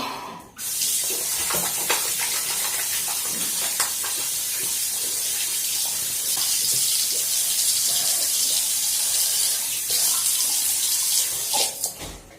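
Water runs steadily from a tap into a sink while a face is rinsed clean, a close, continuous splashing rush that starts abruptly and fades near the end, with no talk.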